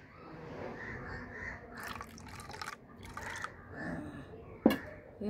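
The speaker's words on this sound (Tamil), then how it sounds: "அதில் கொஞ்சம் தண்ணி ஊற்றிக்கணும்." Water is poured into a thick homemade herbal remedy mixture in a kitchen, producing faint intermittent trickles and drips, with soft liquid splashes and a sharper clink near the end.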